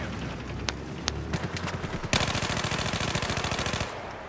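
A light machine gun fires in a video game, first in a few scattered shots and then in a sustained rapid burst of loud, close gunfire.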